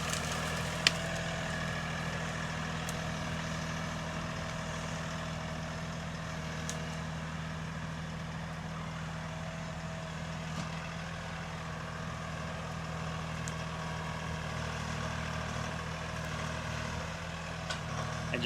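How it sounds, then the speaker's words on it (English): A tractor engine runs at a steady, droning idle throughout, even and continuous, with a few faint clicks over the top and no talk. "Dad's gonna do it on the tractor."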